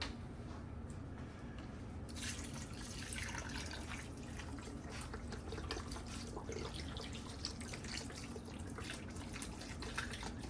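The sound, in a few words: chicken stock and water poured into pot of oxtails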